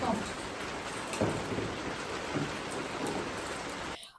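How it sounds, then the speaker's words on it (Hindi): Heavy rain pours steadily in a rural village, a dense broadband hiss of falling water with scattered louder splashes, continuous and fairly close until it cuts off at the very end. "बारिश झमाझम हो रही है दोस्तों।"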